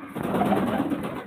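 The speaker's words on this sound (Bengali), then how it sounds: "নর পায়রা" A male pigeon coos close by, one short, throaty, rolling call lasting about a second with no other sounds.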